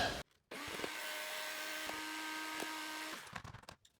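A small blender whirs through a homemade mascara and eyeliner mixture with a little water, starting abruptly after a brief click, humming steadily for about three seconds, then cutting off with clattering handling noises, fairly quiet and close.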